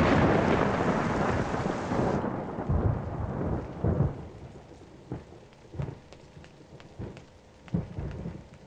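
Heavy rain pours steadily, then eases after a couple of seconds into a lighter patter broken by several sharp thunder cracks and rumbles, close and loud, with no voices.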